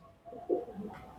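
Racing pigeons, young birds in moulting season, give a short coo with a brief louder swell in the middle, fairly near and soft, with no talk.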